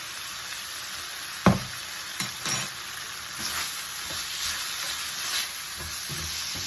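Beef chow mein stir-frying in a pan, with continuous loud sizzling and hissing broken by a few knocks and scrapes of stirring, no voices.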